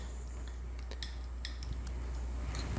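A fork stirs tahini inside a jar, giving light metallic clinks and scrapes against the glass in scattered bursts over a steady low hum.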